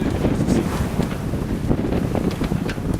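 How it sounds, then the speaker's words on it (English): Sailboat underway at sea on a cruising voyage, steady rushing wind buffeting the microphone over the wash of water along the hull, continuous and close, with no talking. "Yes, we're actually sailing."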